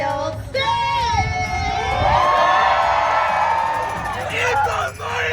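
A Renaissance festival crowd cheers and whoops loudly, many voices rising into a sustained shrill roar before tapering, with some talk mixed in.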